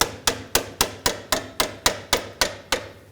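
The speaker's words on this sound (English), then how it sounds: "Just give it a tap with a hammer." A hammer raps on a tie rod boot clamp of a BMW 328i ten times in a quick, even rhythm, each tap sharp and ringing briefly, close and loud.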